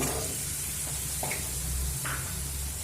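Pre-fried potatoes and green peas drop into hot oil for matar paneer, producing a dense, even sizzle that fills the whole short stretch, close and steady with no voices.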